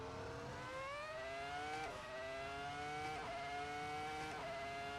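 A Ferrari F2004 Formula 1 car in Assetto Corsa screams at high revs, its engine pitch climbing steadily and dipping sharply with each of three quick upshifts, loud and continuous with no talk.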